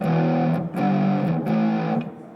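Three heavily distorted electric guitar power chords in a row, root, fifth and octave, played through a Source Audio distortion pedal, each loud and sustained with short breaks between.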